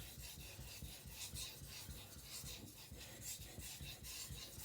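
A Zwilling petty knife edge is lightly stroked across a sharpening stone, soft repeated rasping passes in an even rhythm, close but quiet.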